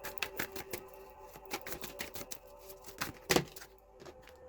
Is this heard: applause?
no